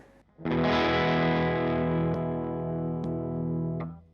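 A sustained, heavily overdriven electric guitar chord through a Marshall Bluesbreaker Mk1 overdrive pedal rings out loud and thick, holding steadily with a few faint clicks before cutting off.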